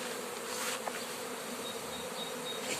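A honeybee swarm, taken from an apple tree, makes its way into a hive with a soft, continuous buzzing drone that stays faint and steady throughout.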